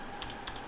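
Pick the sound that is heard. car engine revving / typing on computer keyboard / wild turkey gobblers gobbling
typing on computer keyboard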